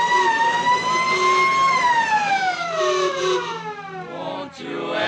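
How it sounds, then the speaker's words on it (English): A wailing fire engine siren with sweeping, falling tones, loud and close, fills the whole stretch with no talk. "Fire engines came running and there was much excitement."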